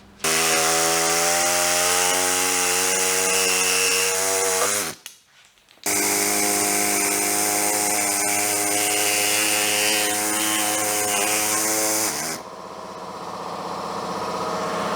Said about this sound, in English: then I'll drill holes and then bolt them in like that